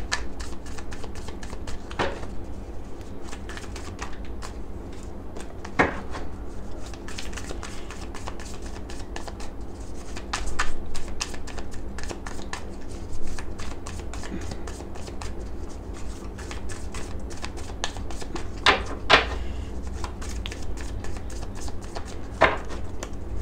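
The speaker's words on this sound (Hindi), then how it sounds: "जब भी मैं कार्ड शफल करती हूँ" Tarot cards shuffled by hand, a soft continuous riffling and flicking with occasional sharper snaps, close and fairly quiet throughout.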